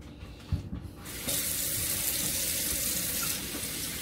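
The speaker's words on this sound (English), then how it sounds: "We are gonna rinse this out." A kitchen sink tap is turned on after a few soft clunks, and water runs in a steady, close rush for the rest of the moment.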